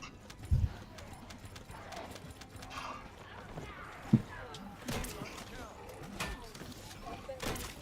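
A horse clops in the video game The First Descendant, with a few faint, sparse hoof knocks in a quiet game scene and a voice speaking now and then.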